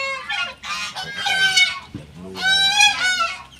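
Loud, nasal honking from geese or ducks, several bursts in quick succession, close by and with no talk.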